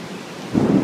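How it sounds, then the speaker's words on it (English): Thunder during a rainstorm, a low rumble swelling briefly over a steady hiss of rain, fairly loud and close, with no talk. "There's a lot of thunder."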